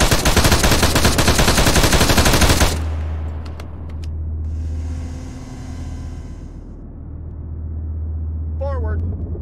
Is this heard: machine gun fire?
yes